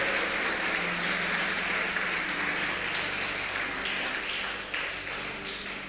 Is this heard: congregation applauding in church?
yes